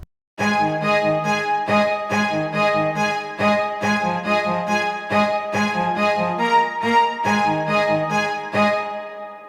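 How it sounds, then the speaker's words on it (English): A full string section from Logic stock sounds plays together in loud, punchy repeated chords, a rhythmic pattern of sharp attacks with sustained harmony, alone without voices. "The strings together sound like this."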